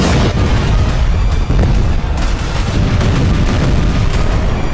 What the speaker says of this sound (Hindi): प्रेसिडेंशियल कॉम्प्लेक्स के नजदीक हुए इन धमाकों से वहां हड़कंप मच गई।